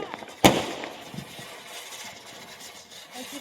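A colourful Diwali sky shot firework bursts with one sharp, loud crack near the start, followed by fading crackle and low background noise.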